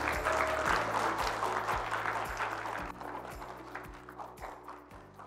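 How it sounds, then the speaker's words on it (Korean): An audience at a clinic's home medical care center results meeting applauds to welcome a speaker. The clapping is fairly loud at first, then gradually thins and fades over several seconds. "모두 큰 박수로 맞이하여 주시겠습니다."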